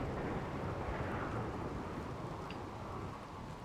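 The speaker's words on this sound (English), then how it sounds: "The relaxing sound of thunderstorms and gunshots." Thunderstorm in the game Rimworld: a low, steady rumble of rolling thunder with a rain-like hiss, faint and continuous, fading slightly toward the end.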